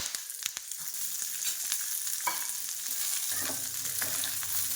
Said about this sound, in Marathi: आणि तेल टाकून नंतर आपण चांगले भाजून घेऊया तसं मस्त भाजले चालले आहेत